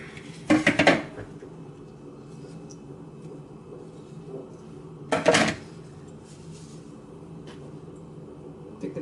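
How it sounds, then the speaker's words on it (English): A metal pie pan clanks twice against a surface as it is inverted and flipped over bread dough, two sharp rattling metallic bangs several seconds apart in a quiet room. "So what I've got here is my pie pan. Just going to invert it"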